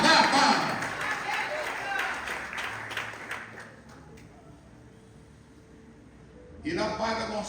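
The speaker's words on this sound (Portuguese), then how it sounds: "Aplausa a Ele" Congregation applauding inside a church during a family worship service: loud, dense clapping at the start that thins out and fades to near quiet, before a voice comes back in near the end.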